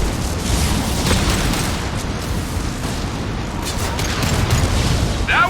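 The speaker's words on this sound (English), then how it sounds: "Watch out, flashbangs!" Flashbang explosions rumble and boom through a dense Mass Effect Legendary Edition firefight, loud and continuous, ending in a ringing, warbling tone.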